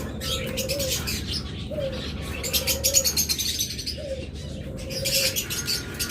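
Breeding pairs of pigeons coo repeatedly at a steady, close range, with soft chirps and an occasional flutter of wings in between.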